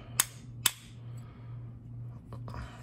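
Two sharp metallic taps of a hammer on a Federal 8103P lock, close together, followed by fainter knocks over a low steady hum.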